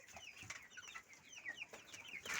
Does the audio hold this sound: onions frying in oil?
no